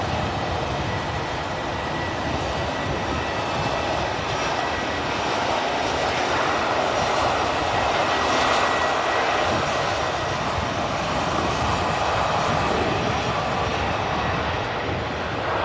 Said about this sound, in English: here's your TAP Airbus